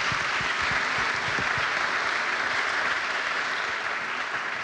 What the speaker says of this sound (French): Déjà, on peut vous applaudir, parce que merci beaucoup, c'était passionnant.